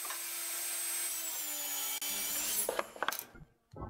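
A power tool cuts through a block of wood to make holders for cutting bits, a steady whining buzz with the blade biting in, then the cut finishes and gives way to a few knocks and rubbing handling sounds before it goes quiet.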